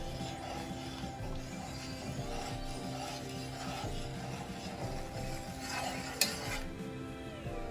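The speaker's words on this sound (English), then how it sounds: "and stir well till it dissolves" A spoon stirs sugar into boiling water in a pan, making quiet, continuous scraping and rubbing with a faint bubbling undertone and a single small clink near the end.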